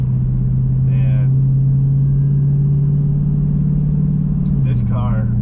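A Dodge Challenger Hellcat Redeye with a muffler delete drones at a steady low idle or cruise, loud and close, with the pitch dipping slightly near the end while someone talks over it.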